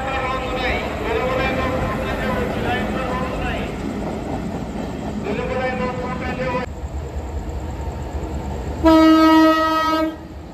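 A local train pulls into Jaleswar station with a steady rumble, sounding its horn in short bursts before one long loud blast near the end.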